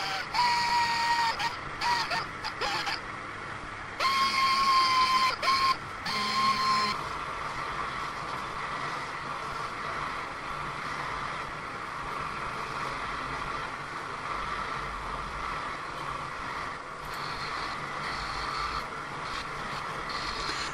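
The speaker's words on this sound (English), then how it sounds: "So now we're using mops and polishing compounds." Buffing mops with polishing compound work over the dull nickel finish of a 1927 motorcycle lamp, a steady machine whir running throughout with a few brief higher-pitched whines near the start.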